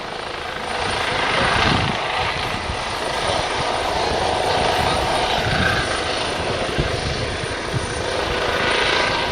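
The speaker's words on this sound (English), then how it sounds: "There goes the Airbus Juno HT1 from the Defence Helicopter Flying School" Airbus Juno HT1 training helicopter of the Defence Helicopter Flying School departing at an airshow at East Fortune, a loud steady rotor and engine roar that holds throughout with gentle swells as it moves away.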